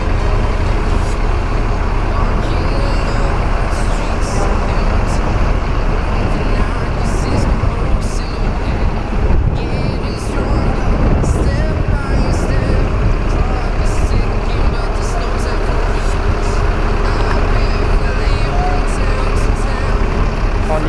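Busy bus terminal at Kampung Rambutan in Jakarta, with a steady dense rumble of idling buses and road traffic, occasional hissing brakes and faint distant voices throughout.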